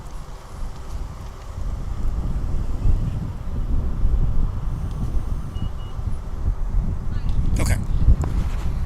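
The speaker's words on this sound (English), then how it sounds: "the wind is picking up" Gusty wind buffets an outdoor microphone at an airport plane-spotting spot, a steady low rumble that swells toward the end, with a brief spoken word early on.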